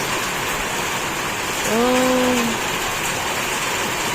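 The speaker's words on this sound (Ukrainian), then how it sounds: "А зараз прямо воно періще добре." Heavy rain pours down outdoors in a steady, dense hiss that fills the whole stretch, with a brief tonal sound rising over it midway and no talking.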